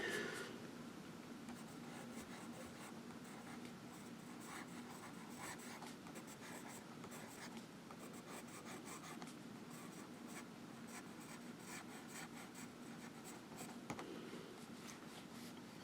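A Franklin-Christoph Model 20 fountain pen with a number 6 steel nib scratches steadily across paper in continuous close, quiet strokes, with no talking.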